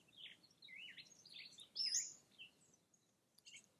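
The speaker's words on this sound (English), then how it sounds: "Can you hear the birds?" Small birds chirp and sing outdoors on a ranch in the morning, several short bright calls overlapping at moderate distance, fairly faint over a quiet rural background with no talking.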